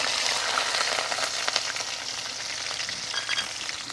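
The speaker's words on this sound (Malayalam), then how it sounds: "കടുക് പൊട്ടിക്കഴിഞ്ഞാൽ ഇനി നമുക്കിതിൽ ഞാൻ ഒരു ചെറിയ കുടം വെളുത്തുള്ളി എടുത്ത് ചെറുതായിട്ട് അരിഞ്ഞതാണ് ഇതിട്ട് കൊടുക്കുക" Finely chopped garlic frying in hot oil after mustard seeds have spluttered, for a sardine fish pickle; steady close sizzling with scattered crackles and stirring, no talk.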